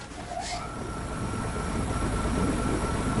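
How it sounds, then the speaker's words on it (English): In the video game I Expect You To Die, a steady low rumble like an engine or train runs throughout, building slightly in loudness, with a brief higher whine sweeping near the start. "The engine is engaged and we are starting our set."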